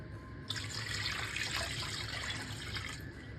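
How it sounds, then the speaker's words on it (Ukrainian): Water gushes steadily from a tap into a pot of pork, starting abruptly and running for about two and a half seconds before easing off. "Заливаємо його водою так, щоб тільки вода його покрила."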